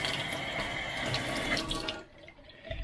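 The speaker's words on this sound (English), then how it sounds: "I've got it running through a water filter" Tap water runs steadily through a water filter in a tiny house bathroom under construction, a loud continuous hiss that cuts off abruptly near the end, leaving a faint low room tone.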